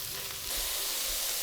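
A burger fries in a single pan with bacon grease and onions, making a close, steady, crackling sizzle that swells slightly louder partway through.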